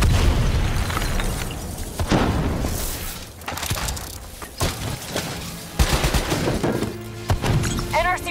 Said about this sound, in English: They're about to detonate!